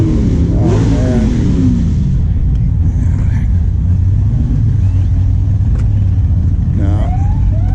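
A track car with a Chevy engine revs loudly at the 28th Street Metro Cruise car show in Grand Rapids, Michigan, with rising throttle blips over a deep rumbling idle and people talking nearby.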